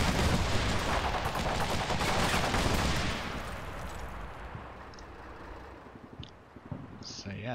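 A PK machine gun in Combat Mission Shock Force 2 fires dense, rattling bursts of gunfire that fill the first three seconds, then fades to scattered distant shots and faint clatter.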